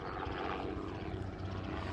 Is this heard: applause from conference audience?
no